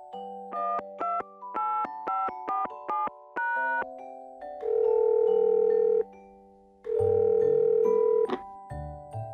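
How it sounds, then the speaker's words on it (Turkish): A telephone being dialed: a fast run of short keypad tones, then a steady, loud dial or ringing tone that sounds twice with a gap between. "Ömer bu sabah Salih'e telefon etti"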